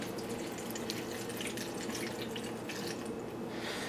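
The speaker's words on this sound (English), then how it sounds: "Now I do have some water, so I'm going to pour some water into the bottom" Water pours steadily into the bottom of a salad spinner used for sprouting mung beans, giving a continuous close splashing and trickling with no talk.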